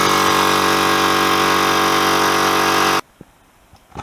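An SGS 50 litre air compressor runs loud and close in a steady, dense mechanical roar. It cuts off abruptly after about three seconds, leaving near silence with a few faint knocks.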